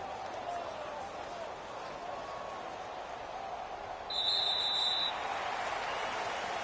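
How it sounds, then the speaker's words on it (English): A home crowd applauds in a basketball video game, a steady broad wash of clapping and crowd noise that swells slightly partway through, heard under faint commentary. "And the home crowd applauding."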